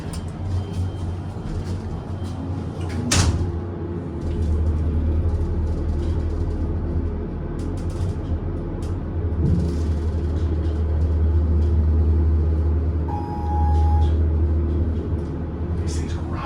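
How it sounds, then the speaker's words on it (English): A vintage Dover elevator runs in a Christopher Newport University building, its low motor rumble heard over a fan's steady hum, with a couple of clunks and a short tone near the end. "You can tell it has an epic motor because you can hear it over the fan."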